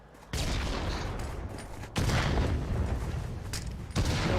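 Grenades explode in a VR shooter game, several loud, sudden booming blasts, each followed by a long crackling rumble that fills the space.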